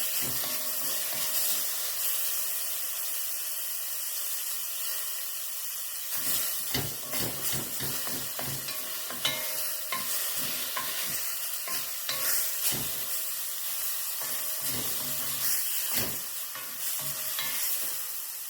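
Beef pieces for bœuf bourguignon browning in oil or butter in a pan, giving a steady close sizzle and hiss, broken after a few seconds by repeated scraping and stirring knocks.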